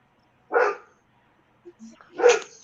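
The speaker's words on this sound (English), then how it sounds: "You barking at the fox?" Two sharp dog barks, the first alone and the second after a short pause, loud and close, with a couple of faint small yips between them.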